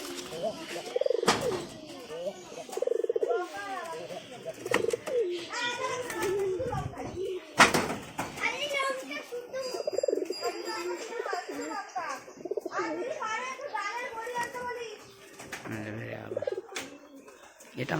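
Pet pigeons in a loft coo softly and repeatedly through most of the stretch, mixed with nearby chattering children's voices and other people talking.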